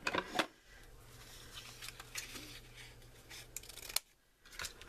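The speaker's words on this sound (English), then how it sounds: "So I'm just gonna cut that off" Scissors cutting through card for a handmade easel birthday card, a few close snips and crisp paper rustles with short pauses, quiet and without talking.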